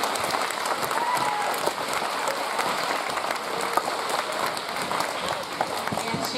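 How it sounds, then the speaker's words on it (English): A room full of people applauding at an 8th grade graduation, steady, dense clapping that carries on evenly throughout, with occasional louder individual claps. "if we could just give her a little round of applause"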